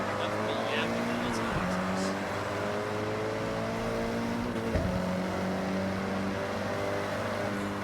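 A rally car in Forza Horizon drones with a loud, continuous engine note under gear shifts, with the pitch dropping and climbing again at each change, and a voice talking over it throughout.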